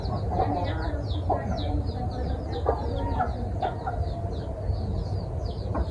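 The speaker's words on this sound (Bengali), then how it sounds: "এই ছোট মুরগি এই ঘরের মধ্যে চলে আসছে।" Small chickens and chicks cluck and peep steadily inside a poultry house, a dense continuous chatter of many birds close by, with occasional faint human voice underneath.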